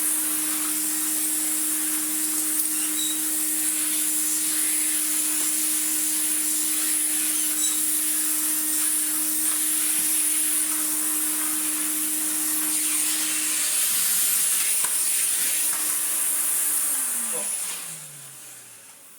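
An Electrolux Z185e stick vacuum cleaner with a new motor runs with a loud, steady high whine and airy hiss, close, before powering down with a falling pitch near the end.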